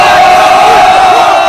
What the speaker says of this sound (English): So do you guys want to do your cheer? Let's do your cheer.